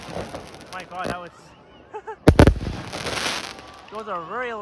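A single heavy firework blast with crackling tail at a Victoria Day display in Linus Park, North York, Toronto, loud and close, while spectators talk before and after.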